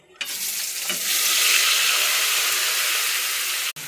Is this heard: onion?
yes